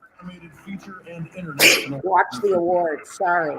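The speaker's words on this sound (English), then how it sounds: "Bless you." A sudden sneeze bursts out mid-conversation at a live awards-night viewing party, a single sharp, loud, noisy blast amid close talking voices, followed by more chatter.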